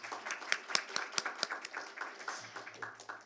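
Audience applause at a corporate governance award ceremony, a scattered patter of individual claps with sharp peaks, moderately quiet and slightly distant, with no talk over it.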